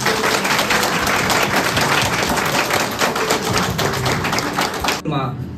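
Dense, sustained applause fills a wedding ceremony right after the vows, a crowd clapping loudly and steadily for about five seconds before it stops abruptly.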